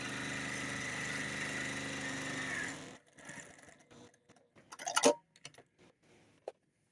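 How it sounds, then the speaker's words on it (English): A sewing machine runs steadily for about three seconds while stitching binding around a hanging organizer with clear plastic pockets, then stops, followed by scattered handling clicks and rustles. "I'm going to finish sewing this all the way around."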